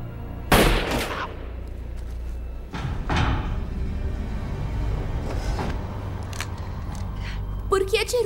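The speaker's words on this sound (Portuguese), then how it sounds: "Barulho de tiro chama atenção" A horror film scene carries a few sharp gunshot blasts, one loud crack early and further hard bangs later, mixed with movement noise and dialogue spoken around them.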